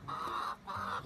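A backyard hen clucks twice in quick succession, close and clear, with no talking over it.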